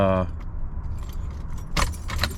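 A key jangles and turns in the ignition of a diesel truck fitted with a new glow plug relay while its glow plugs heat. The cab hum is steady, with sharp key and switch clicks near the end.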